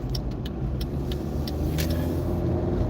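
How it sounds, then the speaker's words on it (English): Cars streaming past on a busy road near a traffic light, a continuous close roar of tires and engines with brief swells as vehicles go by, heard from inside a car. "Because this is so busy, you'll see all these cars coming out."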